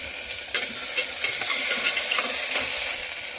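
Ginger garlic paste frying with onions in a pan on low heat, a steady close sizzle with light clicks and scrapes of stirring throughout, no voices.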